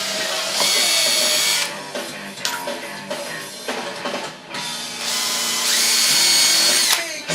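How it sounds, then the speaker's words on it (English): A power drill whines loudly in two long bursts, with a stretch of shorter stop-start runs and clattering between them. "so I'm actually going to take this and I'm going to drill this."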